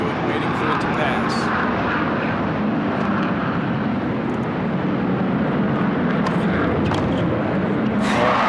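A fixed-wing airplane flies overhead during a 2001 US Open tennis match, its loud, steady engine roar filling the whole stretch without a break.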